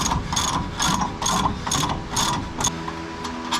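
A ratchet wrench removing a bolt from a GMC Sonoma in a small garage, loud close rhythmic clicking in about seven even bursts with no one talking.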